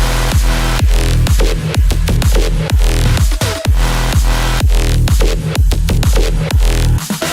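An electronic track plays loud, with punchy four-on-the-floor kicks pumping under bright, buzzy synth chords and twinkling synth layers, and a brief pause near the end.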